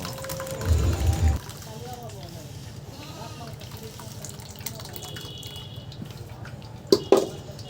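Banana liquid is poured into a cloth tied over a vessel for straining, making a short gush near the start, then softer trickling and a couple of knocks while a voice talks.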